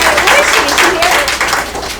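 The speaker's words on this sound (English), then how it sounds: "Let's give a round of applause for our first closing" Office staff at a sales meeting applaud a colleague, a short, continuous wash of clapping from a group in a room, with voices mixed faintly into it.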